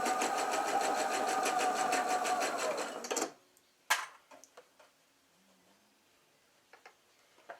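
A sewing machine stitching around the curves of a teddy bear head runs steadily and loudly for about three seconds, then stops, leaving a few soft clicks and handling taps.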